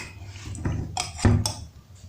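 Spoon stirring a thick squash seed paste with crushed chili in a bowl, a few soft scrapes and dull clinks against the bowl, close and fairly loud, no talk.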